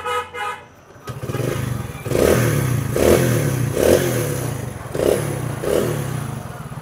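Old Hero Splendor motorcycle fitted with a self-start kit, a short beep from the ignition followed by the engine catching and idling with a steady putter that swells in a few regular pulses.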